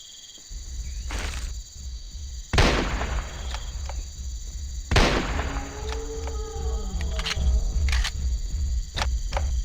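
Rifle shots ring out in Jurassic Park Hunter Legends, a dinosaur-hunting video game: a few sharp, loud reports spaced seconds apart over a steady outdoor ambience of insects and wind.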